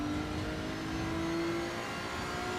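A GT3 race car engine in the Assetto Corsa EVO racing game drones steadily with a sustained tone that creeps slightly upward, heard alone at moderate level.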